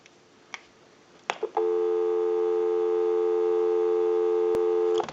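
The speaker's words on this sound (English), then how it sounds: "Go ahead and give you some dial tone." A steady, loud dial tone from a Western Electric 554 rotary telephone hums continuously after a couple of faint clicks, holding unbroken for several seconds before cutting off.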